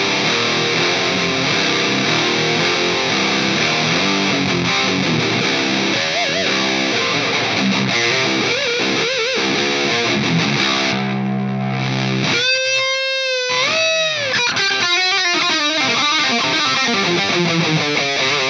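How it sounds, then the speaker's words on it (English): A heavily distorted electric guitar in drop C tuning, boosted through a Mesa Dual Rectifier, chugs low, palm-muted riffs continuously, loud and saturated, with a short sustained bend near the end. "just sit there and chunk in drop C with a boost on"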